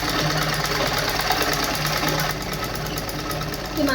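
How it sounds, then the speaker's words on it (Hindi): A sewing machine runs continuously, stitching a blouse seam with a steady, loud, close mechanical whir and rapid needle chatter, easing slightly partway through. "इसी सिलाई के साइड से 2-3 सिलाइयाँ लगा देंगे"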